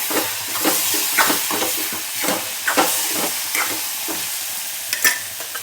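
Onion with turmeric sautés in a pan for Marathi onion-tomato chutney, a constant sizzle broken by repeated scraping stirs of a spoon, close and fairly loud, with no voices.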